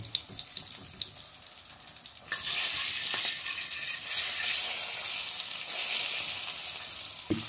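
Sardines dropped into hot oil where curry is being burned for a Jamaican curry sardine dish, a quieter sizzle jumping to a loud, steady broadband frying hiss that holds to the end, with faint clinks of stirring.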